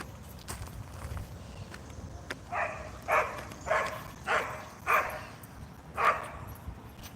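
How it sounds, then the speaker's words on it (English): A puppy named Bailey gives about six short barks at an even rhythm, moderately distant, over faint outdoor background noise with no talking. "How about that puppy?"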